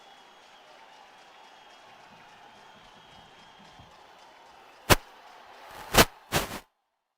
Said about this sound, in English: And this crowd is just buzzing.